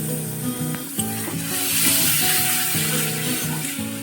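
Spices and sugar fry in oil as they are stirred in a pan for a traditional Bengali koi fish curry, with a close, steady sizzle broken by scraping stirs.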